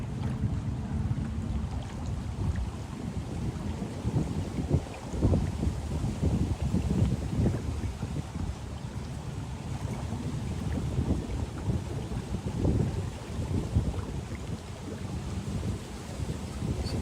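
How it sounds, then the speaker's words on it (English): Strong wind buffets an outdoor spot beside open water, with steady broadband rushing, gusty rumble and lapping waves throughout, loud and continuous with no talking. "Listen to the wind. Listen to the water."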